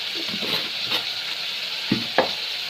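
Chicken curry with salt, chili and spices stirred in a pan, a steady bright sizzle throughout with a few scraping stirs and two sharper utensil knocks near the end, close and fairly loud.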